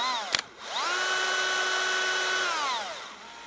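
A power drill boring through a car hood during a hood-lift piston install, opening with a short click, then spinning up to a steady whining pitch for about two seconds before winding down, fairly close.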